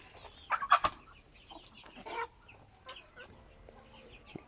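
Backyard chickens cluck and squawk nearby in short, scattered bursts while being fed greens, with one louder flurry of calls early on and softer clucks trailing after.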